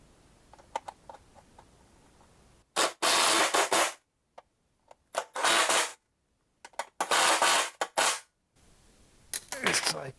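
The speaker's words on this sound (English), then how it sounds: "And then you could use your drill." A power drill whirs in several loud bursts separated by short pauses, driving bolts into a John Deere D110 mower deck with a gritty, rasping buzz.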